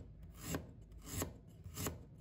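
Three evenly spaced knife strokes cut through a peeled piece of fresh ginger into slices on a board, each a short crisp chop with a faint rasp, close and quiet with no talk.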